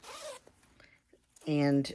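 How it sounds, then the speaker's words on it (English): A zipper on the pocket of a handmade fabric bag gives one quick, close zip pull near the end, after some quiet, soft talking. "she even put a zipper pocket inside"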